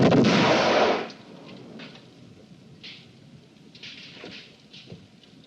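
A firing squad's rifle volley, one loud, sharp simultaneous crack of gunfire that rings out for about a second before dropping away to a quiet outdoor background with faint scattered noises.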